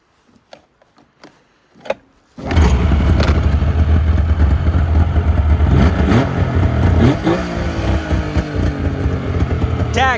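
After a few light clicks and knocks, the engine of a Yamaha VMax snowmobile cranks and fires up, then runs loud and close with a rough, busy idle and slight revving, accompanied by some mechanical clatter.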